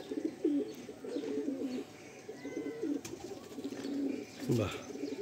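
Madrasi fancy pigeons coo in low, throaty, repeated phrases close by, with a person talking intermittently and a few faint chirps in the background.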